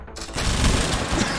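A single loud, roaring volley of massed rifle fire from a line of soldiers in the Roblox game Blood and Iron, erupting after a brief quiet moment and ringing out as a dense, sustained blast.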